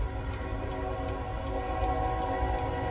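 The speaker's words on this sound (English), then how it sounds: "There's a train coming." A train approaches with a steady, loud rumble and sustained horn tones, the rail noise constant and close throughout without speech.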